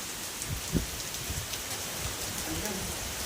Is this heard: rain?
yes